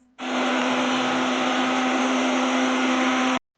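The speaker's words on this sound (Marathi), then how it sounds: "आता माझ्या मम्मीने आयडिया दिली की आता मिक्सरच्या भांड्यात करून बघ" A kitchen mixer grinder whirs steadily with ingredients for a ghee-based moisturizer in its jar, switching on sharply, running at an even, loud drone for about three seconds, then cutting off abruptly.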